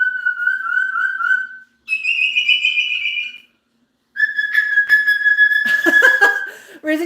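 Max, a Moluccan cockatoo, gives loud, piercing flock calls close by: three long, shrill whistled screams, the last breaking into a harsh, raspy squawk.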